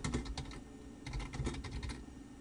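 Fast typing on a computer keyboard in two bursts of close, crisp key clicks, with a short pause between them.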